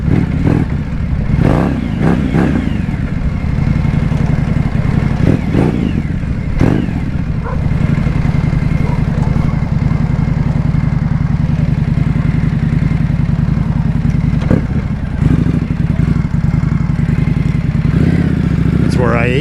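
A 2025 Indian Scout Bobber motorcycle fitted with a Vance & Hines exhaust rumbles loud and close for the whole stretch with revving surges, while someone talks over the engine noise.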